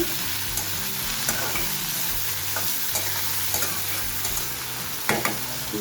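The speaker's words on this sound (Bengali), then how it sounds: "দিয়ে দিচ্ছি লবণ একটু নেড়ে দিচ্ছি" Bitter gourd stir-fried with salt in a pan, with a steady sizzle under repeated scraping stirring strokes, close and moderately loud, with no voices.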